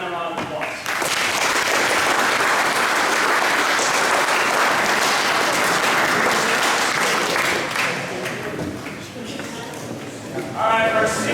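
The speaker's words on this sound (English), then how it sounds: "So let's give these young men a round of applause." A banquet crowd gives a sustained, loud round of applause for young high school football players, a thick wash of many clapping hands that swells quickly and holds for several seconds before easing off as a voice returns.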